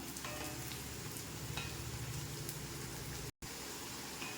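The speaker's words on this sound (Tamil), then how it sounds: "நல்லா சுருளாக வதக்கணும் அவசரப்படக்கூடாது பொறுமையாக வதக்கணும்" Bitter gourd being slowly sautéed in a pan for pickle, a soft, steady sizzle with faint crackles and light stirring, fairly quiet with a brief dropout near the end.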